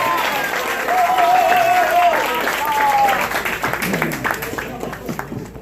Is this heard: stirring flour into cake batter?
no